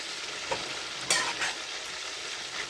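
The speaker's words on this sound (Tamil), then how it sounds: "இப்போ நான் வந்து கிண்டி விட்டுக்கிறேன்." Eggplant and other vegetables frying in oil in a pan give a steady close sizzle, broken by a few brief scraping stirs of a spoon against the pan.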